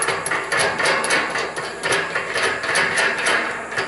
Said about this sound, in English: So I screw this nut on